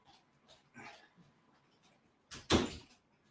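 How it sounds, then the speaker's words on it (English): A lounge room door swings shut indoors with a single close, firm thud near the end, after a few faint rustles and soft movements in an otherwise quiet room. "I'm just going to have to shut the lounge room door."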